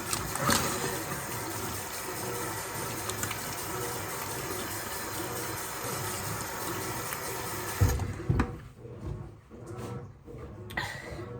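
Water from a bathroom tap runs steadily during face washing and teeth brushing, a fairly faint, constant rushing gush that cuts off near the end, leaving a few soft splashes and clinks.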